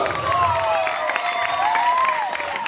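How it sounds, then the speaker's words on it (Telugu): A church audience at a vacation Bible school celebration claps loudly in a sustained burst, mixed with crowd murmur and a tonal musical line running underneath. "నాగేశ్వరం ఆంటీకి గట్టిగా క్లాప్స్ కొడుతూ మనం అభినందిద్దాం."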